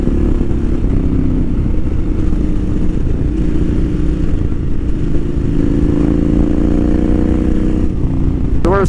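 A KTM 990 motorcycle underway, its engine a loud, steady drone with a slight rise in pitch toward the end, heard up close with constant rumble and no talking.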